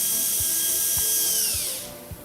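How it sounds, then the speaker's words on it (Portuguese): A dental bur grinds against a metal overlay, texturing the slopes of the cusps: a steady high-pitched whine that drops in pitch and fades out near the end, with faint periodic ticks underneath. "damos a textura de acabamento na vertente triturante da cúspide cêntrica e não cêntrica, com broca paralela a essa vertente"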